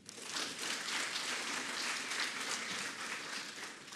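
An audience at a ceremonial gathering in Abidjan applauds with a dense, steady wash of clapping, quiet and somewhat distant, holding evenly for a few seconds with no talk over it.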